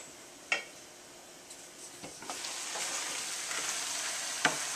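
Red curry with coconut milk simmers and sizzles in a pan, a soft continuous fry hiss that grows slightly louder, broken by a few sharp clicks and utensil taps.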